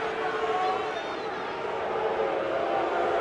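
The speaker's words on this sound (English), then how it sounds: "It's not the first time he's been booed here." A baseball stadium crowd of about 27,000 booing a batter, a sustained, dense roar of voices at a distance, steady and loud throughout.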